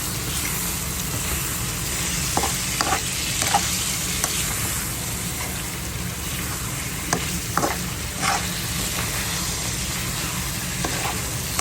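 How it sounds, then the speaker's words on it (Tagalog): Chicken adobo with gizzard sizzling loudly and steadily in a pan as soy sauce is added, with occasional light utensil scrapes and taps over the continuous frying hiss. "Lagyan na natin ang toyo."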